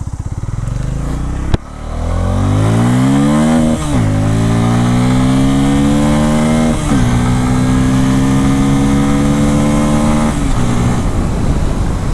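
A Bajaj Pulsar motorcycle with a five-speed gearbox rides along a road, its engine loud and close, revving up through several gear changes, each pull rising in pitch before dropping at the next shift.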